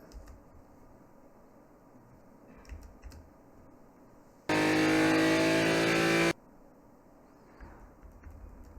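A race car on the outer track at Utah Motorsports Campus, heard as a loud, steady engine roar that cuts in abruptly for about two seconds between long, quiet stretches of low, faint background noise.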